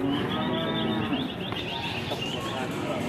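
A large Pegon bull lows at a livestock market, a long, loud, close moo drawn out across the clip over a murmur of background market noise.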